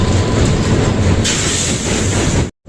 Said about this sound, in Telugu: విజయవాడ రైల్వే స్టేషన్లోకి అయితే ట్రైన్ ఎంటర్ అవ్వబోతుంది ఇప్పుడు